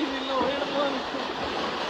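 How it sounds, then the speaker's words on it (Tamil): Floodwater rushing down a street in Sathankulam during heavy rain, a continuous close roar of flowing water with a faint voice over it. "அதிக அளவு தண்ணி பெய்து கொண்டிருக்கு தெருவில்."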